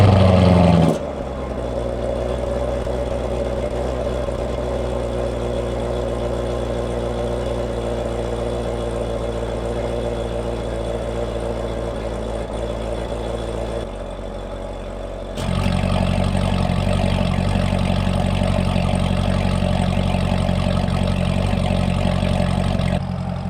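A Chevrolet Corvette ZR1 idles steadily with its exhaust valves closed and catalytic converters still cold, then dips briefly before the valves open and the rumble turns noticeably louder and fuller for the rest of the clip; no one speaks.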